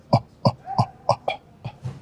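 A voice makes a string of short, soft cough-like bursts, about seven in quick succession, imitating a small cough.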